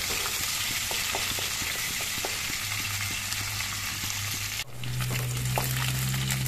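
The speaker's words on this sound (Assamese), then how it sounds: "ইয়াত দি দিম এতিয়া পিঁয়াজখিনি অলপ ৰং চঙা হ'বলৈ দিম" Onions frying in a pan for a chicken curry with chickpeas, a steady close sizzle with occasional pops that carries on through the whole stretch and dips briefly before resuming.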